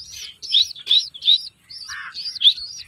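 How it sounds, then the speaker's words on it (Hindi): Sharp bird chirps near a spot where a hungry pigeon arrives to be fed: a quick series of bright, clipped calls in short bursts with brief gaps, close and fairly loud, with no voices. "तो ये कबूतर आ चुका है यहाँ,"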